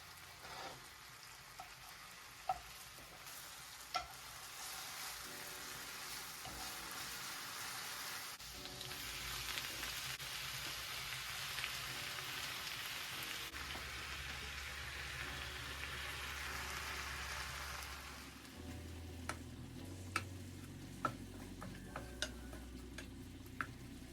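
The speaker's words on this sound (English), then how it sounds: "I added some olive oil to the pan and then went in with some garlic and onion, and then I'm gonna add the spinach" Spinach frying with garlic and onion in olive oil in a pan, a steady close sizzle with soft stirring scrapes, shifting to quieter crackle with sharp occasional ticks and pops toward the end.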